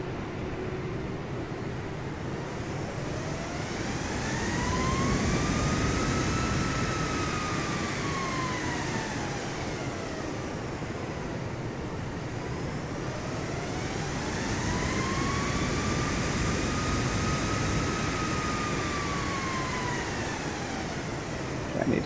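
Boeing 737 jet engines at full throttle in a flight simulator, a loud continuous roar with tones that rise and fall in slow repeating waves.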